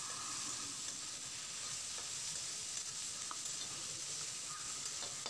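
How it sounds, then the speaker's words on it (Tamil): Chopped tomatoes frying and being stirred in a pan for Tamil-style mushroom gravy, a steady close sizzle with soft scraping stirs throughout and no talking. "தக்காளி நல்லா மசிஞ்சு வர வரைக்கும் நல்லா கலந்து விட்டுக்கலாம்."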